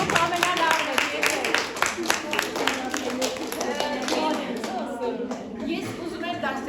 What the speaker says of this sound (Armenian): մի հատ լավ ծափարեք մեզ